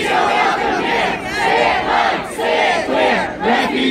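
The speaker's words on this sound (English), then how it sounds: "Enjoy a chant with the rest of our people over here." Rally crowd chanting loud in unison, with rhythmic repeated phrases swelling and dipping in a steady cadence and no pauses.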